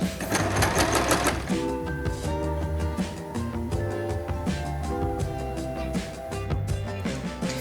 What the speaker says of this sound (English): I'm sewing it to the inside of the shirt, and I'm sewing 3 straight lines